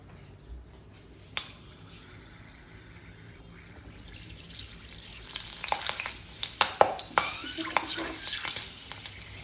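Green chilies frying in hot oil for Mumbai vada pav, a soft background sizzle that builds in the second half with scattered sharp crackles and pops, plus an occasional clink of a utensil.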